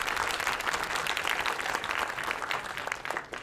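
A full room applauds at an animation awards night. Dense, loud clapping from many hands holds steady throughout, then eases slightly toward the end, with no speech over it.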